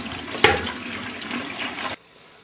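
Strawberries rinsed under cold running water at a kitchen sink: a steady splashing stream with a sharp knock near the start, running for about two seconds before cutting off abruptly into quiet.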